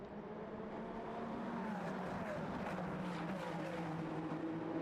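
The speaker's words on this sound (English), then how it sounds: "296 cars scream down the start-finish straight here" Ferrari 296 Challenge race cars at Le Castellet roaring down the start-finish straight in a Ferrari Challenge Europe race, a continuous engine drone heard from a distance, rising slightly in pitch and intensity as the cars pass.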